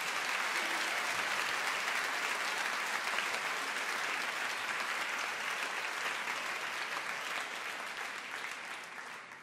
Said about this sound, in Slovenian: Aplavz torej za naš Cici orkester.